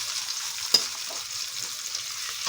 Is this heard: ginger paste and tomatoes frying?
yes